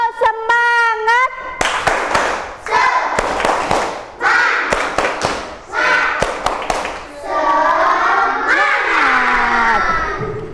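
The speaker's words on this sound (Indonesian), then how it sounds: "Bu Iji ajak tepuk semangat dulu ya" Schoolchildren in a classroom do a rhythmic clapping cheer, loud close voices chanting together over sharp group claps in bursts, ending in a drawn-out shout.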